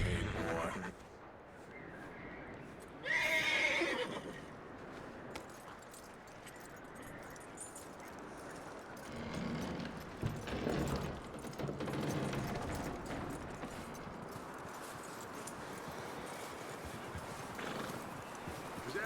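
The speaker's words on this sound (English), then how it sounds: "That looks like a decent horse." Horse in the Red Dead Redemption 2 video game, with hooves clip-clopping at a steady pace and a neigh near the start, set against game ambience and occasional faint voices.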